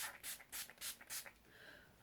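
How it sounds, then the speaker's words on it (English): A Makeup Revolution Pro Fix makeup fixing spray bottle is pumped five times in quick succession, each a short close hissing spritz, followed by a faint softer rustle. "I'm going to use this now, which is the Pro Fix Amazing Makeup Fixing Spray by Makeup Revolution."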